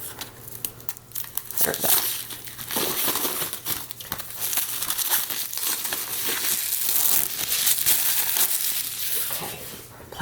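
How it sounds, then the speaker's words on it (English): Close, crinkly crumpling and tearing of plastic wrapping being pulled off a dragon model kit, loud and continuous with a few sharp crackles, and a brief spoken remark over it. "So let me get this plastic off."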